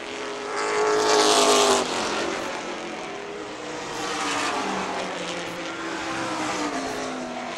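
Pro Stock race cars roaring around an oval track in a late-race battle, a loud engine sweep peaking early then a second pack passing, with no talk over it.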